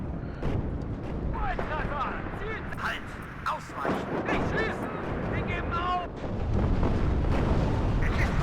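Explosions go off repeatedly as T-72 tanks are destroyed in the war game WARNO, loud booms and crackling blasts layered over dense battle noise, with some talk mixed in.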